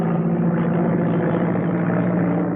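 A propeller plane's engine droning steadily in flight on an old, muffled film soundtrack, a constant loud hum with no break and no voices.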